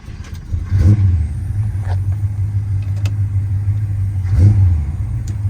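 A 1968 Pontiac LeMans GTO tribute with a 455 engine and five-speed gearbox is started up and revved. A deep, loud idle rumbles close by, broken by two sharp rev bursts, one early and one near the end.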